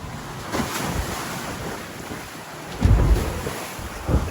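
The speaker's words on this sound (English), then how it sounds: "Oh, it's getting windy." Wind and surf at sea on a small sailboat out on open water, a steady rushing roar with broadband noise, and a few heavier wave thumps breaking against the hull, close to the microphone.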